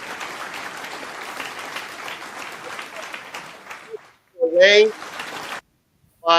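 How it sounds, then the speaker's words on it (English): Round of applause from a small group, steady dense clapping for about four seconds before stopping, followed by a voice speaking. "Can I get a round of applause, producers?"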